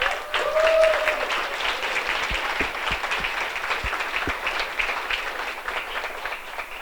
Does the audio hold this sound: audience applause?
yes